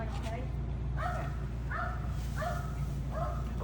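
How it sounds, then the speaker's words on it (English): On the far side of a fence at a pig farm, a dog barks in a regular series of sharp yelps over a low steady rumble, while voices talk nearby. "There's a dog on the other side of the fence."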